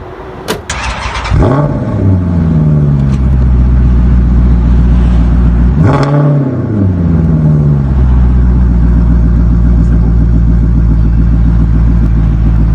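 A Maserati GranTurismo S engine fires up with a sharp starting burst, then revs loudly, settles into a rumbling idle, blips the throttle once more and drops back to a steady, close, deep burble.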